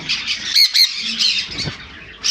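Blue conure parrots at a bird sale let out several loud, sharp squawks in quick succession, close by and mostly alone, with a final squawk at the end.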